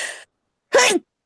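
One loud, close sneeze bursts out sharply after a brief breathy sound and a pause.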